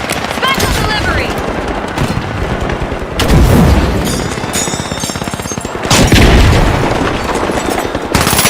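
A frag grenade blows up in a video game during a contestant showdown. Heavy booms land in the middle and near the end, mixed with rapid machine-gun fire and other gunfire throughout, loud and close.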